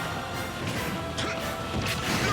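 Two up smash attacks land in a Super Smash Bros tournament match, their impact crashes buried in a dense wash of crowd noise and game sound.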